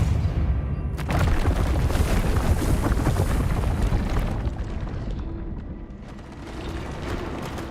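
The Depulso spell is cast in the Hogwarts Legacy video game, giving a loud, close whooshing burst and booming rumble that swells and then fades, with a second surge near the end.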